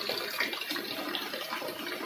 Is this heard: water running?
yes